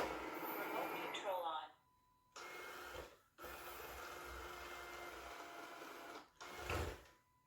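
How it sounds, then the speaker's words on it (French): A SwitchBot K10+ mini robot vacuum runs with only its brush spinning, giving a close, steady whirring hum with a faint whine that cuts out briefly a couple of times. "Je pensais qu'il y avait une aspiration, mais là, il y a juste une brosse qui tourne."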